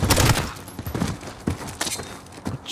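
Rapid gunfire in Call of Duty: Modern Warfare, a burst of loud, close shots followed by several sharp single reports at irregular intervals, with no talk.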